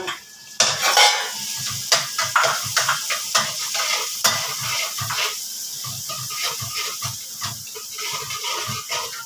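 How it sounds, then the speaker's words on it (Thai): A spatula scrapes and clanks rhythmically in a hot pan while crispy fried catfish is stir-fried with young chilies in a spicy Thai stir-fry. Repeated metallic strokes sound close over a steady sizzle. "ผัดเผ็ดปลาดุกใส่พริกอ่อน"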